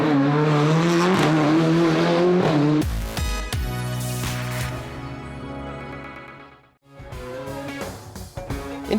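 A rally car screams along a European Rally Championship stage at the 2017 Rally di Roma Capitale, its engine loud and near, rising and falling through gear changes, briefly dropping away before roaring back.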